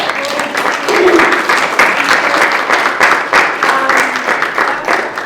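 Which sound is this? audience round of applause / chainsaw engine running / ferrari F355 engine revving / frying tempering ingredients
audience round of applause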